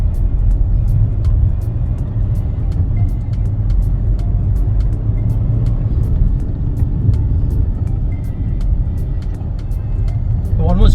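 Kia Sonet diesel SUV rolling over road humps and dents, heard from inside as a steady loud low rumble of engine and road noise with faint ticks throughout.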